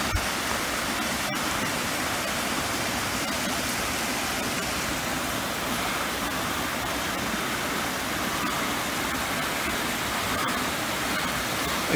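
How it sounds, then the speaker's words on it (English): A steady, roaring rush of falling water from a waterfall in the Musconetcong Gorge, heard from below, fills the scene, broad and unbroken, with no voices. "The waterfall area from below."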